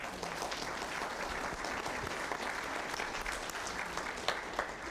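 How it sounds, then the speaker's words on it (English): An audience at a council candidate forum gives sustained applause for the candidates, even clapping running steadily throughout. "So now will you please give a big round of applause for these candidates"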